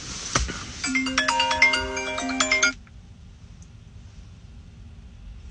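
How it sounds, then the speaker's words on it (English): A mini iPhone rings with an incoming call, a bright melodic ringtone of quick chiming notes lasting about two seconds, then cutting off into quiet room hiss. "Tiny phone is calling me."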